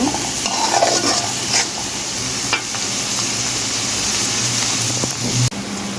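Onions soften in a pan for a poya fish dish, giving a constant close frying sizzle with stirring strokes throughout and a sharp clink near the end.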